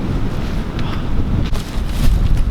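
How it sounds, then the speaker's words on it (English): Strong gusting wind buffets the microphone on a cold hike through New England woods, a continuous loud low roar that swells and surges in waves with no voices. "31 degrees with 20-mile-an-hour winds. It's gusting to 40."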